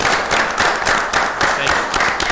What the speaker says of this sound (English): I think we should give Dave a round of applause